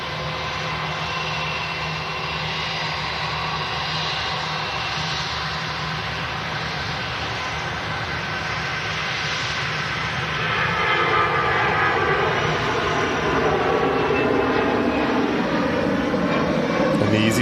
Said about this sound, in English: the EasyJet in the background is on the way out to Marrakesh